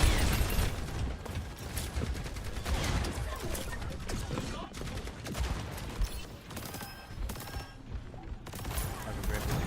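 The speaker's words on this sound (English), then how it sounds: "Ought to Be Great trying to take those pushback shots." Rapid gunfire in a competitive video game match, dense bursts of shots and mechanical clatter running continuously, with a commentator talking over the action.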